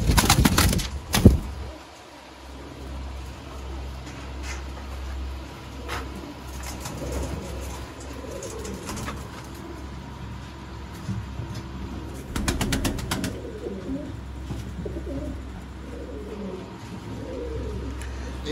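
Sialkoti pigeons kept as breeding pairs coo softly and repeatedly, with a few wing flaps and bumps near the start and a low steady background hum.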